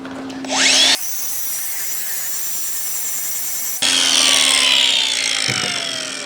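An angle grinder buzzes loudly, taking paint off a trailer's metal before welding, running in two sustained bursts with a brief spin-up and a quieter stretch between them, with no talking.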